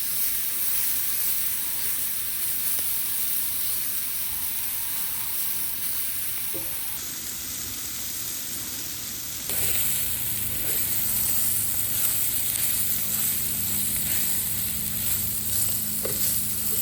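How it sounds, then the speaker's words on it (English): Sausage sizzles as it browns in a pan at a backyard Cajun cook, making a steady close hiss that thickens partway through, with no voices. "Cooking it through and browning this sausage up."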